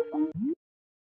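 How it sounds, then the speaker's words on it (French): A short Skype notification chime plays on a tablet: a couple of clean electronic tones followed by a rising swoop, brief and fairly quiet, then silence. "Oula, une petite notification Skype."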